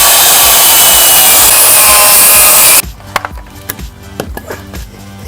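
A saw cuts loudly through a Veranda deck railing cap in one continuous rasping stroke that stops abruptly, followed by a few light knocks and handling clatter.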